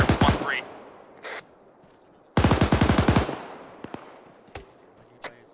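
Automatic gunfire in ArmA 3: a short burst, then a longer rapid burst after a pause, followed by scattered single shots, with a faint radio voice in the background.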